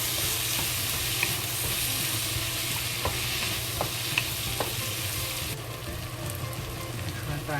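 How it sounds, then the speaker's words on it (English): Egg and softened onion stir-fry in a pot, a steady loud sizzle with scraping strokes of the spatula at irregular intervals, no voices. "Now when the onion becomes soft, we add the egg straight back to the pot"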